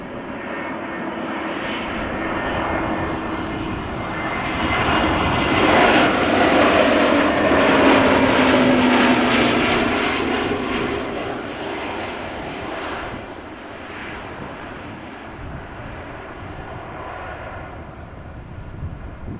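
A fixed-wing airliner passes over Amsterdam Schiphol Airport, its engine roar building to a loud, broad peak midway and then easing into a steady, slightly distant rumble that lingers to the end.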